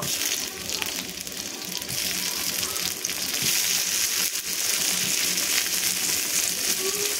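Onion and tomato fry in a pan with a steady, loud sizzle and crackle, broken by occasional scraping as the mixture is stirred, with no talking over it.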